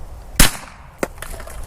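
Two gunshots fired at debris on a shooting range: a loud, sharp crack followed about half a second later by a fainter second shot, outdoors with no talking.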